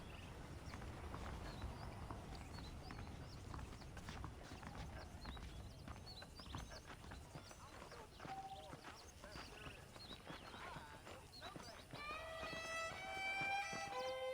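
Hooves of a saddled horse clip-clop at a steady walking pace in the video game Red Dead Redemption, moderately near, with snorting, game ambience and birdsong around them.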